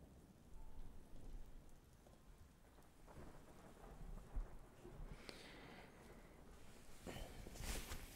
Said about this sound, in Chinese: 给你加个雷雨声吧。